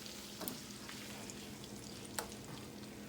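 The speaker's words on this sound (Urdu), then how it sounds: "اب اس میں ہم یہ زیرہ اور لہسن ڈالیں گے" Cumin and garlic sizzling in melted butter in a pan, a faint continuous frying hiss with a few light clicks and pops, quiet and close with no speech.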